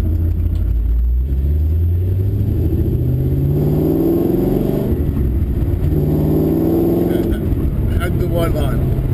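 A V8 race car engine roars loud and close on hot laps at Pukekohe circuit in Auckland, with pitch rising and falling through gear changes and a steady drone underneath.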